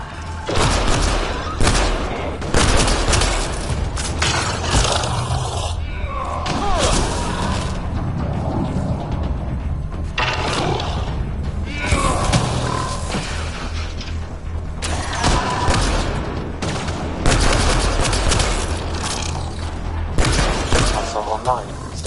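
Gunfire in the video game Mass Effect Andromeda during a firefight in a hangar: repeated bursts of shots and booms over mechanical noise, loud and near, with voices talking intermittently over the action.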